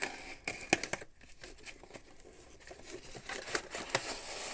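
Cardboard on a box for an HO scale Shay locomotive is cut into nearby, with sharp scraping and tearing bursts broken by short pauses and some crinkling.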